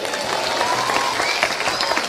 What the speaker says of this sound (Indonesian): Tepuk tangan telat.